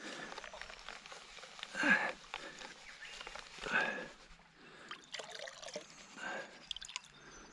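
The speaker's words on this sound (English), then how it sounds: "might wash some of that dirt out first." Dirt being washed out of a pan with river water, quiet sloshing and swishing in a couple of stronger surges with trickling and dripping between, close and soft.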